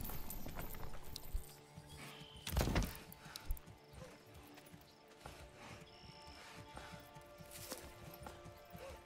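Horse hooves clip-clop and a horse neighs in the medieval city-builder game Manor Lords, with scattered clunks and mechanical game sounds beneath, fairly quiet overall.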